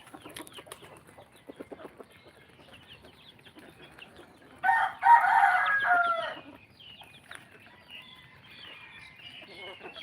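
A single rooster crows once, fairly close and loud, rising out of quiet yard sounds with faint scattered chirps and clucks before and after.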